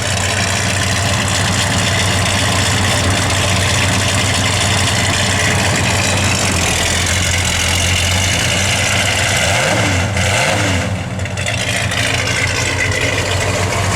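Close, steady idle from the exhaust of a 1967 Dodge Coronet 440 convertible, a deep rumble with a brief blip of revs partway through before it settles back to a smooth idle.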